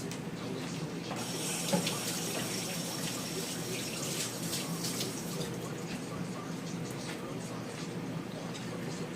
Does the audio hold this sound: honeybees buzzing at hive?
no